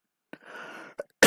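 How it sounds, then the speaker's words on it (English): A single close, fairly loud cough bursts out as a throaty rasp, followed by a short catch of breath and a sharp noise at the end, from a person with a lingering cough in a quiet room. "this stupid ass cough still isn't going away"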